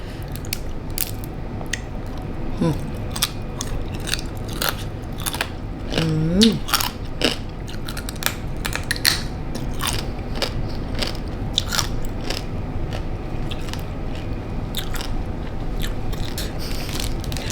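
Crunchy bites and chewing of spicy pickled freshwater crab salad, made with crabs cured in fish sauce, repeating close and loud over steady background noise, with a little speech.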